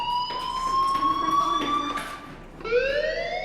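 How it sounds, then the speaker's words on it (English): School fire alarm in the video game Life is Strange, a steady, loud electronic tone that drops out briefly and then rises again, ringing on its own with no talk. "do you hear that fire alarm? That means you should be outside."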